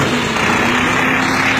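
A self-made Kartar tractor engine runs at a steady, continuous drone, close and loud, with no talk over it.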